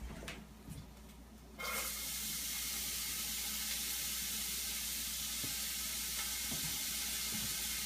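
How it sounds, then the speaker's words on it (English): Chopped onion dropped into a hot pan with browned bits, bursting into a loud, steady sizzle after a quieter opening second that continues evenly to the end. "I'm going to add to that pan some chopped onion."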